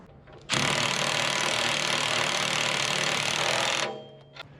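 A hydraulic cylinder working on a DIY hoist for an Oliver OC-3 crawler loader, its valves stiff from sitting, giving a loud, steady mechanical whine and clatter that starts abruptly, runs about three seconds, then winds down.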